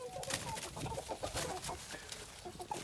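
Ornamental roosters and hens cluck busily and close by, with rapid overlapping calls and fluttering as young cockerels fight and pull feathers.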